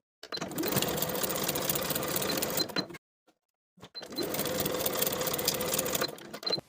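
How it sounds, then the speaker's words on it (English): A sewing machine stitches short fabric edges with a 5/8 inch seam for a beginner tank top, running steadily in two close, loud bursts of about three seconds each, separated by a brief pause. "Sew both short edges with a 5/8 inch seam allowance and press the seams open."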